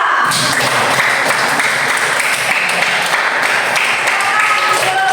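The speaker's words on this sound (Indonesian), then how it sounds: "Tepuk tangan untuk nomor 3." Steady classroom applause for a student group after a presentation during a teaching practice lesson, dense clapping from the whole class held at an even level throughout, with faint voices mixed underneath.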